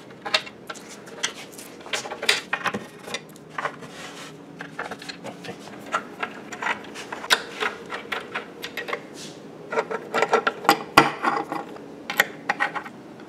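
M5 bolts being driven into a CNC wasteboard with a 4 mm Allen wrench during assembly of a FoxAlien 4040-XE machine: a steady series of close, sharp metallic clicks and ratcheting taps, irregular in rhythm, with no talking.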